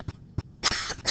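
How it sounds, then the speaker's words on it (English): A person coughs several times in quick succession during a physics lesson on electricity and circuits, short close bursts followed by a longer raspy cough. "Sorry, I'm going to cough."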